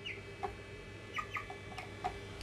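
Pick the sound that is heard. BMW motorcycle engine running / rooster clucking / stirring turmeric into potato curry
rooster clucking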